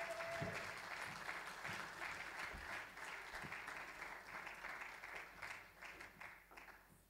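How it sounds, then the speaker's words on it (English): A church crowd gives a round of applause, fairly quiet and distant, a continuous wash of clapping that swells and thins over several seconds with a few sharper knocks. "let's give these guys a round of applause"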